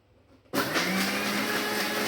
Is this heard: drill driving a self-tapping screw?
no